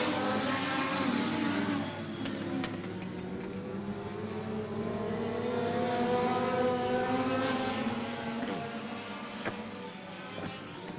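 Dirt track race cars roaring around Maquoketa Speedway in an MLDS heat race, several engines droning and rising and falling in pitch as the pack passes, loud and continuous with no voices.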